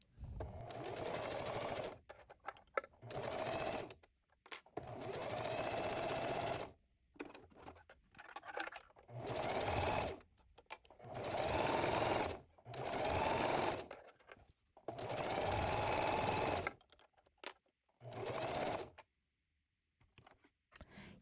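A sewing machine stitches French seams, helped by a hump jumper over thick spots, running in repeated bursts of steady whirring of a few seconds each, separated by short pauses, close and alone.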